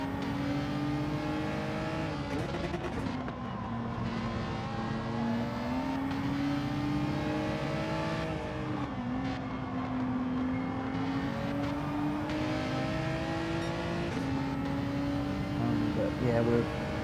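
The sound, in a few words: race car engines in video game Gran Turismo 7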